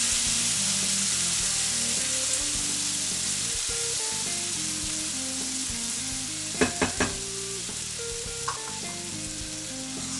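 Peeled, diced tomatoes frying in a pan for menemen, a steady close sizzle with a few brief clinks of stirring, while a melody plays softly underneath.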